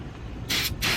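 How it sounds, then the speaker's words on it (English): Brake cleaner is sprayed from an aerosol can onto a 2018 Mustang GT engine during an oil change. Two short, loud, close hissing bursts stand out over a steady background rumble. "press this brake clean, get all the oil away"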